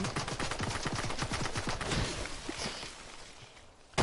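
Rapid bursts of drum gun fire in Fortnite strike a tree, a fast rattling string of sharp cracks that thins out and fades, with a final sharp hit at the very end.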